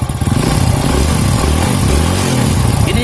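A rebuilt Honda Grand motorcycle engine revs briefly up close, its loud uneven throttle blips carrying a clattery mechanical edge.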